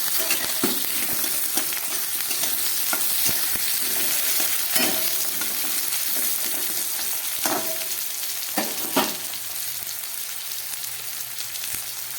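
Onion, potato pieces and half-crushed garlic frying together in a pan, a continuous hissing sizzle with irregular utensil knocks and scrapes breaking through, close by and without any voices.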